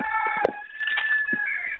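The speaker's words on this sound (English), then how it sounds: "He'd probably know that's a rooster." A rooster crows once in a long, strained, wavering call, heard fairly close but thin and narrow-toned as if through a phone line, with faint background noise.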